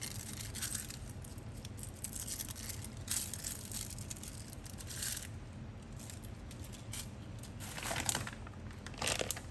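A plastic wrapper is peeled off an imitation crab stick, crinkling and crackling in short bursts up close, with scraping handling noises between them.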